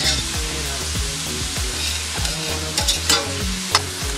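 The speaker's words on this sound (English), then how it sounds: "So we're just gonna let this saute down," Thyme sautéing in a pot for Jamaican curry, a steady close sizzle of frying with repeated scraping strokes from stirring in a regular rhythm, plus a few sharp clinks.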